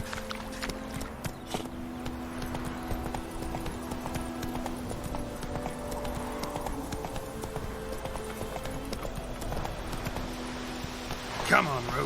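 Geralt's horse Roach trots in The Witcher 3, a steady run of clip-clop hoofbeats at moderate distance under game music and ambience, ending with a brief louder swell.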